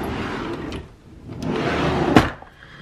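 A makeup storage drawer slides open with a scraping rumble, ending in a sharp clack near the end, close by and fairly loud.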